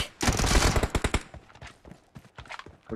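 Gunfire from the PUBG Mobile team deathmatch erupts in a loud, dense burst of rapid shots, then continues as sparser, scattered reports at a slightly lower level.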